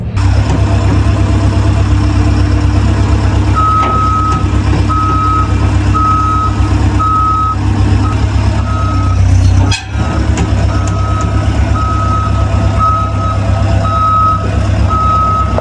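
Forklift unloading a box truck gives out a steady series of reversing beeps over the loud, constant drone of an idling engine, close by and lasting the whole stretch apart from one short break.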